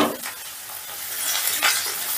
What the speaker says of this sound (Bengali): রসুনটা একটু হালকা করে নাড়াচাড়া করে নেব।